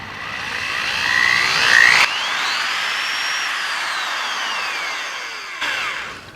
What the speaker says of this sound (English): So this is a DeWalt DW106. It's a great drill.